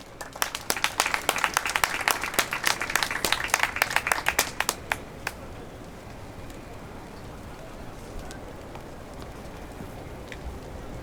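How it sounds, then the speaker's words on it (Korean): An audience at a memorial night for Lee Han-yeol claps for a bereaved family member, a brisk burst of many hands that fades out after about five seconds into quiet room noise. "큰 박수 부탁드립니다."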